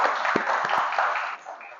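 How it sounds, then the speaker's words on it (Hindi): Colleagues applaud an employee at an Employee of the Month recognition at Arazi Advisors, a thin, steady patter of hand clapping from a small group that fades toward the end. "इस बात के लिए इनके लिए तालियां होनी चाहिए"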